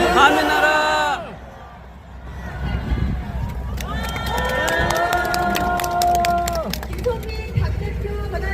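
Crowd at a multi-party opposition mass rally shouting and cheering together, a loud sustained roar of many voices with rising and falling chanted calls, staying dense for the whole stretch.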